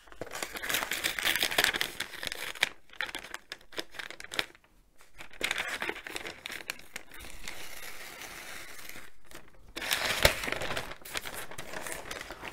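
Brown paper wrapping is crumpled and scrunched close up, with dense crackling rustles coming in bursts and brief pauses over about twelve seconds.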